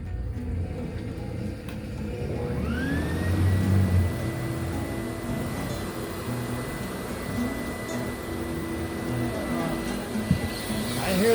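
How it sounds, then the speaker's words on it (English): A vacuum cleaner, plugged into a newly installed outdoor electrical outlet, whirs steadily at moderate loudness over background noise, with its tone settling into a constant hum after starting up. "I hear the vacuum cleaner working."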